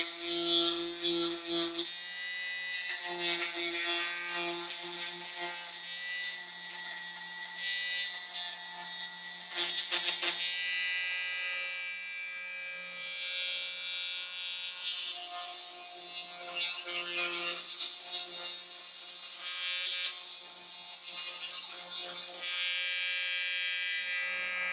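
A Dremel rotary tool cuts off an old wooden dowel on an antique chair with a high, whining buzz that rises and dips as the bit bites into the wood, near and continuous with short pauses.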